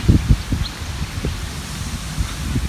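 Wind moves through trees in a park, a soft steady rustle of leaves with a few low gusty thumps on the microphone, outdoors and fairly quiet.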